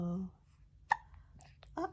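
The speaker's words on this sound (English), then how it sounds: "Do you have hiccups?" A young child gives a single sharp hiccup, brief and close, between soft bits of an adult's speech.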